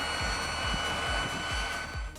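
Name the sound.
SubsonX small jet plane mini turbine engine roar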